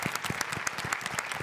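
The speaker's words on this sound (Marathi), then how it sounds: "जोरदार टाळ्यांनी आपण स्वागत करूयात स्वानंदी टिकेकर यांचं." A studio audience applauds at a Marathi comedy show taping, steady rhythmic clapping that stays fairly close and even across the short stretch with no voices.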